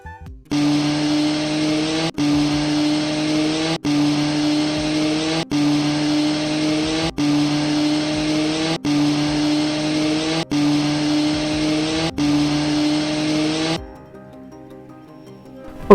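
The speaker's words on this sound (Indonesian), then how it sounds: "Suara knalpot motor Anda sudah melanggar aturan kebisingan" A motorcycle with a loud exhaust revs in repeated long, loud bursts, about eight in a row with brief cuts between them, then drops to a quiet idle.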